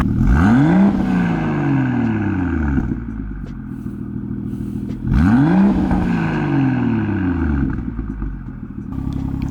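BMW X3 M40i revved hard twice while parked in Maine snow, each loud rising engine sweep falling away with turbo whoosh and flutter, the second burst starting about five seconds in.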